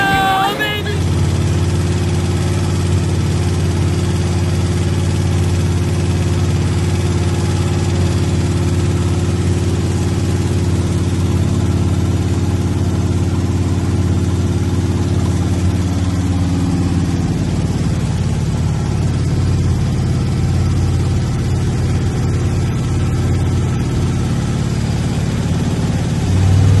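A freshly built engine with a flat-tappet camshaft idles continuously at its first start during cam break-in, giving a loud, steady, rumbling drone that stays close and unbroken throughout.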